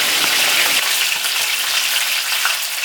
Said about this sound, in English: I'm going to turn it on the other side and fry.